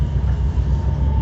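Steady rumble of a c2c Class 720 electric train running between Barking and Benfleet, heard from inside the carriage as a continuous low, loud drone with no voices.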